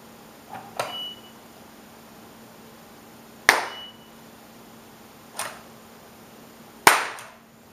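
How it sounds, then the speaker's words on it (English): Four sharp, loud hand claps ring out indoors, spaced a few seconds apart, each with a short decay and near-silence between them, during an Arduino high-speed photography trigger demonstration. "I'll just clap my hands as a sound."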